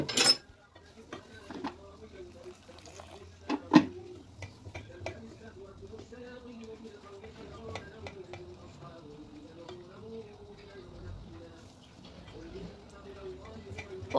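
A pot of mushroom cream soup, seasoned with a pinch of salt, is stirred with soft, steady scraping and light clinks, mostly under a speaking voice.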